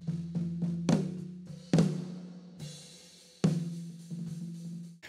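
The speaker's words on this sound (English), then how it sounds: "You can hear that ringing, right?" Snare drum close-miked in a live drum recording, struck repeatedly in an uneven pattern, each hit leaving a sustained resonant ring that decays slowly before the next stroke.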